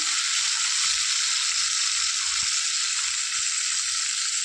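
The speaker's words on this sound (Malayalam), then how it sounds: "നന്നായിട്ട് ഇളക്കി ഈ ഉള്ളിയൊക്കെ ഒന്ന് നന്നായിട്ട് വഴന്ന് വരുന്നവരെ നമുക്ക് വെയിറ്റ് ചെയ്യാം" Shallots sautéing in a pan for a Kerala-style shallot curry, a steady bright hiss of frying oil with soft thuds of stirring underneath, close and continuous, no talking.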